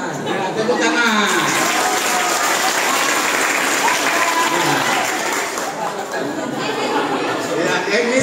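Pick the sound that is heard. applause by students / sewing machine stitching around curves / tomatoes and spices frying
applause by students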